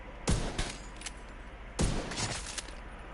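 Weapon fire in a shooter video game with a Strong Asp Diamondback build: two sharp bursts of shots about a second and a half apart, each followed by quick rattling echoes, loud and close.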